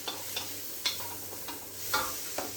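A king prawn curry with pineapple and coconut gets stirred in a hot pan: a steady low sizzle runs throughout while a utensil scrapes the pan in several distinct strokes, close and moderately loud.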